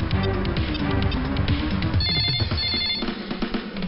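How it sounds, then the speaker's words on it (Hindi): A telephone rings while a call is being placed, a bright repeating ringtone pattern heard loudly within a dense mix of background music and noise. "मैं दीदी को फोन लगाता हूँ।"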